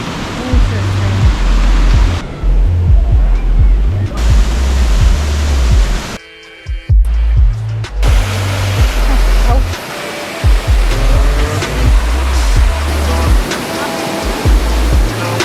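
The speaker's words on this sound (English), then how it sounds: "This is the waterfall." Schiessentümpel waterfall in Mullerthal, Luxembourg, a constant loud hiss of falling water mixed with heavy wind buffeting on the microphone, briefly cutting out midway.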